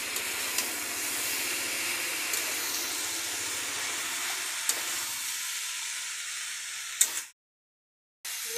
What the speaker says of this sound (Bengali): এবার দিয়ে দিচ্ছি আদা কাঁচা লঙ্কা বাটা। দিয়ে এবার একটু নেড়ে দিই।